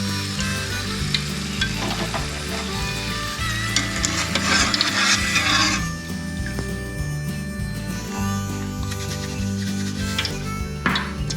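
Homemade sweet potato fries bubble in hot oil with a steady, close sizzle and dense crackle that eases slightly partway through, mixed with faint hum and occasional clinks.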